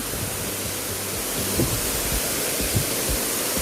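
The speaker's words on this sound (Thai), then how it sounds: "และนี่คือน้ำตกที่เราตามหา" Salat Dai waterfall in Nakhon Nayok, reached by a forest trail; a steady, full broadband rush of falling water, close and constant throughout with no voices.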